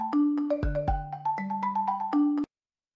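Phone ringback tone on an outgoing call to a business number, a string of clear electronic beeps and warbling tones in a steady pattern for over two seconds, then cut off to silence.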